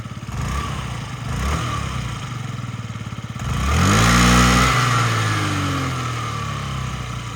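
A fuel-injected Yamaha Jog SA36 scooter engine runs steadily up close, then revs up sharply with rising pitch before settling back to a strong idle.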